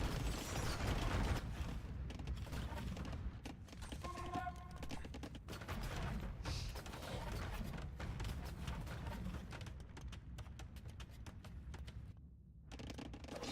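Trebuchets and cannons pound a castle in an Age of Empires match, a dense, continuous clatter of impacts and booming shots layered into a steady loud battle din.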